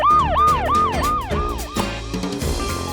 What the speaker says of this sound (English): This is the right one. A police car.